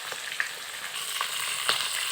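Fish frying in oil in a pan over a medium flame: a soft, continuous sizzle with a few scattered sharp pops and crackles, heard close up with no talking.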